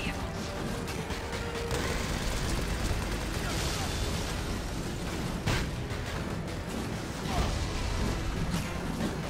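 Dense gunfire in the video game Devil's Third, during a church boss fight, with rapid bursts and blasts over a constant noisy background, lasting throughout.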